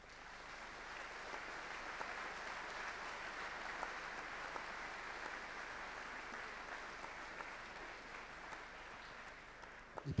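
Sustained audience applause at an interview event fills the whole stretch, a steady dense wash of clapping at moderate distance with no break, ending in a few sharper claps.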